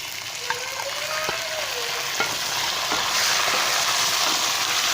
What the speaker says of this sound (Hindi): चिकन को अच्छे से थोड़ा फ्राई कर लेंगे